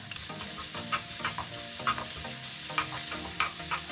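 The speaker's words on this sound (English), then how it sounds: "Put the chopped large onion and fry it well." Chopped onion, carrots, ham and kimchi frying in a pan for kimchi omurice, a continuous close sizzle with regular clacking and scraping stir strokes.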